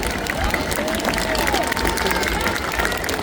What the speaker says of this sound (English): Let's give the Synchro pair and Renee a massive round of applause for wonderful heart in the sky of Blackpool.